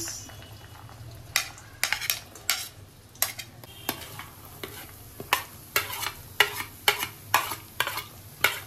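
Fried rice with garlic and beans stir-fried in a wok, a spatula scraping and clanking against the pan in repeated sharp strokes over a low, steady sizzle, with no voices.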